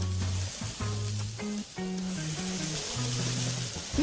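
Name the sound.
KFC griddled chicken sizzling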